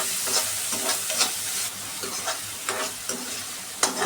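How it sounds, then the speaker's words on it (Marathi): Onion and chili sauté with garlic in a wok (kadhai) for methi bhaji, giving a close, busy sizzle broken by repeated stirring scrapes and soft knocks at an uneven rhythm, with no speech. "लसूण परतल्यानंतर त्यात कांदा व मिरची घालावी. ते सर्व परतून घ्यावे."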